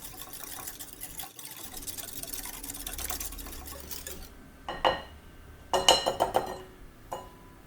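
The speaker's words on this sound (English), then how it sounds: "whisk that really well together till it's all combined and creamy" A whisk works coleslaw dressing of mayonnaise, ground pepper and salt in a bowl, starting as a soft steady swishing and then giving way to bursts of quick clinking taps against the bowl, fairly quiet and with no voices.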